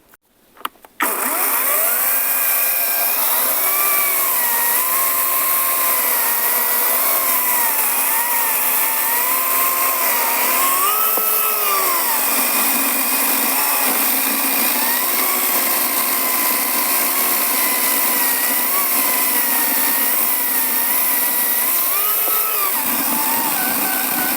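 A Grosser GCS 160 cordless saw runs steadily in automatic mode, a loud continuous motor whine whose pitch dips and rises as it cuts, with a brief knock at the start and the motor stopping just before the end.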